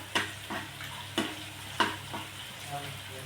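Chopped spring onion greens sautéing in a hot pan: a few sharp spoon scrapes and stirs over a continuous sizzle, close and clear, with no voices.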